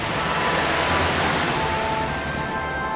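A cartoon fuel truck drives off a ferry onto the shore, its engine a steady, moderately loud drone over a busy wash of background noise.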